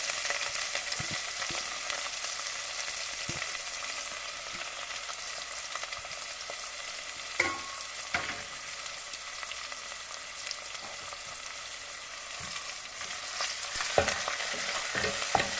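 Tempering (talimpu) frying for a grated raw mango rasam, heard as a continuous bright hiss with a few spatters and clinks. The sizzle is moderately close and nobody talks over it.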